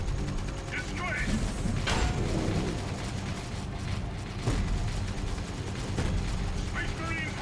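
Space Marine squad gunfire in Dawn of War 3, bursts of shots and mechanical clatter with explosions over continuous battle noise, while voices speak over it.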